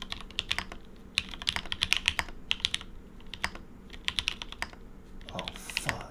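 Rapid, irregular clicking of a mechanical keyboard typed in Dvorak layout, close and crisp, in quick bursts separated by short pauses, with a faint voice near the end.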